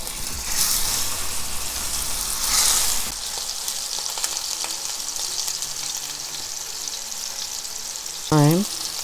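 Meatballs sizzle and fry in a hot skillet, a steady bright crackle that swells and fades with the occasional scrape of turning, and a brief squeaky clink near the end.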